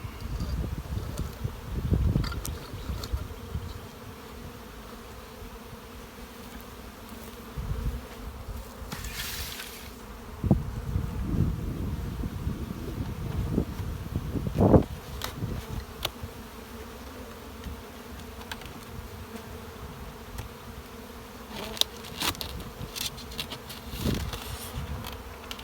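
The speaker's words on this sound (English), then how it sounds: "Plenty of bees in this hive." Honey bees buzzing densely inside a hive during a colony inspection, a steady close hum with occasional louder passes and faint rustling, no voices.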